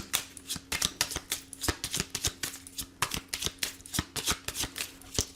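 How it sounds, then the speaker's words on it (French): Tarot deck being shuffled by hand for a daily reading, a rapid series of crisp riffling card flutters in close, steady bursts with no talking. "on va faire la coupe et on va prendre juste nos 3 cartes"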